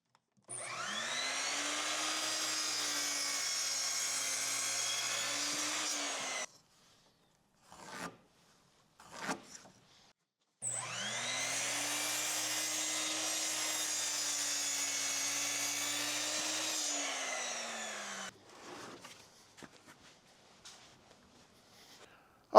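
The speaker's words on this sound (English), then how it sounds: "All right, so we got those cut on the miter saw." A miter saw cuts cedar fence pickets in two long steady whining passes of about six and eight seconds, the motor pitch dipping slightly under load, with clattering handling noises of wood between and after.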